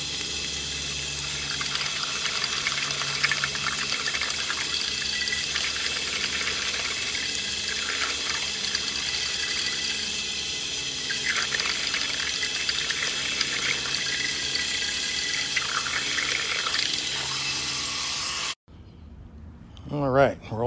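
Water rushes steadily through a Buckner 1294 full-circle cam rotor sprinkler head, a continuous close hiss and gurgle that cuts off abruptly near the end, leaving near silence.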